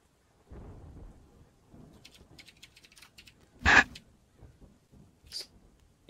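Rain and thunder in the video game Terraria, with soft patter and scattered drips and one sharp, loud thunder crack midway, then faint rain continuing.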